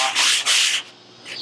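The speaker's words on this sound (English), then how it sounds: "Let your sandpaper cut." A sanding block with sandpaper rubs over a lowrider car's metal body panel in two quick, loud back-and-forth strokes, then a quieter scrape.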